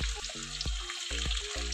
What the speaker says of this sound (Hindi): इसी ऑयल में हम प्याज ब्राउन करेंगे